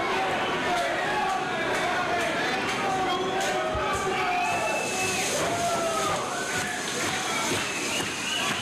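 Wrestling event crowd at a women's wrestling show, a steady dense roar of cheering and chatter under a continuous wash of noise, with commentators talking over it.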